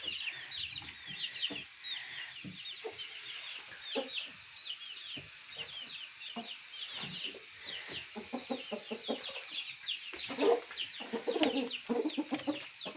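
Chickens cluck and chirp steadily, with many overlapping calls and occasional soft thumps and rustles nearby.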